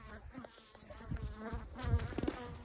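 Honeybees buzzing at a wintering hive, a steady insect drone with fluctuating tones that swells slightly toward the end, close and moderately loud.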